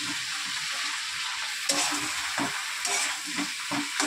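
Bora fritters cook into a curry in a pan, giving a steady oil sizzle broken by several sharp stirring scrapes and louder clatters, close and alone with no voices.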